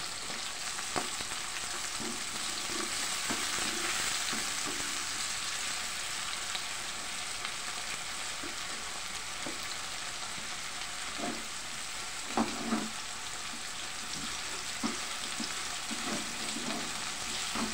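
Tomatoes for ginisang upo sizzle steadily in a hot pan, a continuous close frying hiss with occasional soft pops and a few light stirring knocks, no voices.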